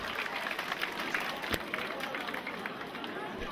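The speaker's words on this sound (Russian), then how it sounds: "Ваши аплодисменты!" Audience applause at an outdoor festival concert in Akhty honouring the Sharvili epic, a dense, steady wash of clapping with crowd murmur mixed in and one sharp louder clap near the middle.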